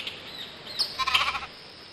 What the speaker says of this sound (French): Les moutons se baladent tranquillement dans les prés d'herbes fraîches.